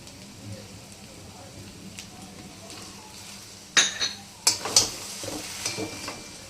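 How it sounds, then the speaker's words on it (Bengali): Stirring potato-onion kachori filling in a pan after garam masala is added: a soft frying hiss, then several sharp metallic clinks and scrapes of a spoon against the pan in a cluster near the end. "গরম মশলাটা এবার দেবো।"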